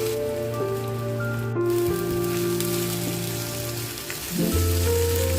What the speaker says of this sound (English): Now fry the diced potatoes.